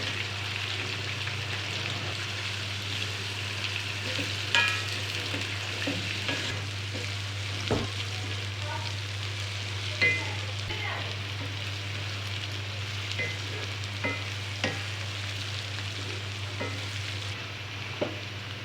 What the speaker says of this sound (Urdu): اس کے بعد اس میں پیاز ڈال کر اس کو بھی فرائی کر لیں جب تک کہ وہ گولڈن براؤن نہ ہو